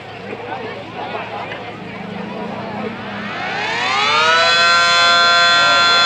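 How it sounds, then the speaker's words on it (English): A Mini Banshee 150 siren winds up from a low start into a loud, steady wail with layered harmonic tones that climb and then hold, after an earlier stretch of wind and outdoor noise. "I have a mini Banshee 150."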